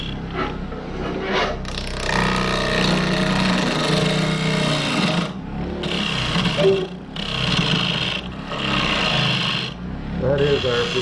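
A power tool grinds and rasps steadily through wood, a loud continuous abrasive scraping that surges and dips in several bursts before pausing briefly near the end.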